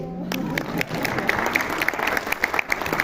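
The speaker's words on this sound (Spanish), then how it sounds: "¿Aplausos?" Audience at a FENALI BUAP 2024 event bursts into sustained clapping, a dense, even patter of many hands filling the hall for the whole stretch, with a voice briefly at the start.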